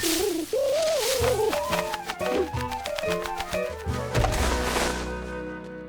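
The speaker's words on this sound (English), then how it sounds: "George was happy to see his friend the pigeon." Pigeon cooing in a Curious George cartoon, a wavering warbling coo that rises and falls across several seconds amid percussive cartoon thumps and music.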